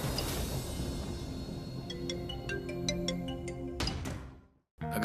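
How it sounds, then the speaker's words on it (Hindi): A mobile phone ringtone plays as a rapid run of short, bright electronic beeps in a steady rhythm over a dense background wash, followed by two louder chimes before the sound cuts to near silence. "फोन बज रहा है।"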